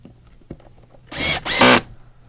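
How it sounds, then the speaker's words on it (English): Power drill driving the top screws into a plate on a wireless module, two short loud bursts back to back after a soft tap, close and clear. "Now we can take and put our top screws in."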